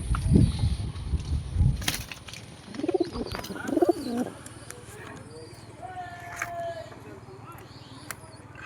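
Pigeons cooing at a home loft, soft throaty coos arriving in a short burst midway, with someone talking loudly at the start and faint ambient noise around.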